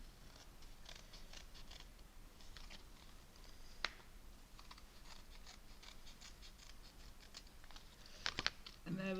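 Quiet, intermittent snips and rustles of scissors cutting through cardboard, several short crisp cuts scattered across the stretch with faint handling noise in between.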